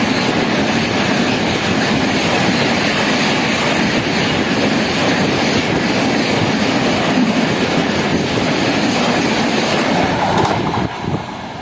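The Sealdah–New Delhi Rajdhani Express passes at about 130 km/h, heard from a neighbouring train as a loud, steady rush of wheels and carriages that holds for nearly the whole stretch before easing off at the end.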